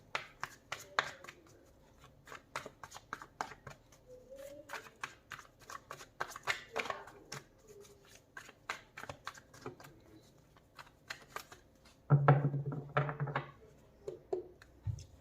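Tarot cards shuffled by hand during a reading, soft rapid riffling and flicking bursts close by, fairly quiet, with a louder handling sound near the end.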